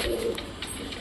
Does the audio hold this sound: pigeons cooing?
yes